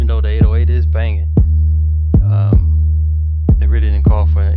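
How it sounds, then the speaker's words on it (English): Kick drum and heavy 808 bass played together in Reason, a deep sustained bass tone punctuated by five evenly spaced punchy kick hits, with sung or synth melodic lines above. "So I'm gonna play the kick and the 808 together"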